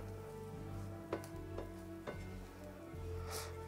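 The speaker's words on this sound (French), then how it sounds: "Je mélange la margarine et le tamari." Margarine and tamari sizzle in a hot pan over medium-high heat, a soft steady crackle with a few sharper spatter pops, faint and close.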